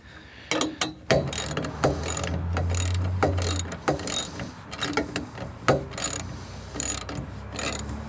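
A ladder rack mechanism on a Sprinter van cinching down into position gives repeated ratcheting clicks and short mechanical clacks in uneven bursts, close and fairly loud, with no talking.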